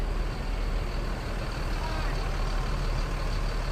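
A bus maneuvers into a parking spot, its engine a heavy steady rumble close by, continuous throughout without a break.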